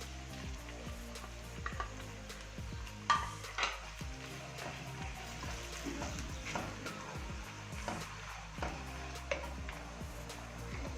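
Chicken tipped into lightly fried onions in a pan, with a soft steady sizzle beneath scattered scraping stirs and small utensil ticks, fairly quiet throughout.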